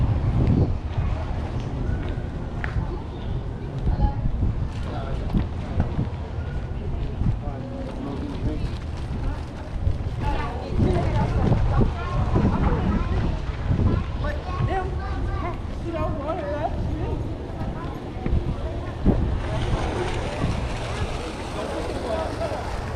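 Steady outdoor wind rumble buffets the microphone throughout at Tanger Outlets in Savannah, Georgia, with people talking and movement nearby underneath.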